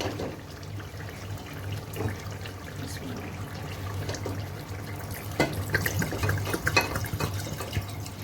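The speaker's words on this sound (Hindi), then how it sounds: "अब इस पॉइंट पे मैं यहाँ पे इसमें पानी ऐड करूँगी" Water poured into a pot of paya masala cooking in oil, a steady splashing trickle with brief louder surges, close and alone.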